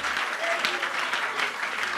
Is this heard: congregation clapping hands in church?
yes